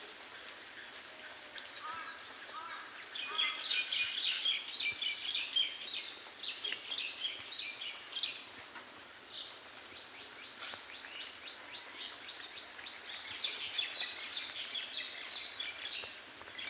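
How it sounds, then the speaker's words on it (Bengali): Birds chirp and call in bright, busy bursts under a cloudy morning sky, moderately distant and layered over a soft steady outdoor hiss. "পাখিদের কুহু কুহু ডাক"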